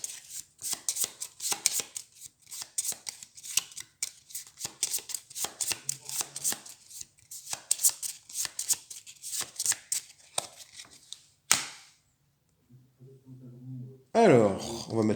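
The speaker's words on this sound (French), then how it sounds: "Et du coup, je vais remélanger ça." Cards for the Xenoshyft board game being shuffled on a table: a long run of quick papery riffles and chopping-like taps, close and fairly loud, breaking off near the end before a few thuds and handling sounds.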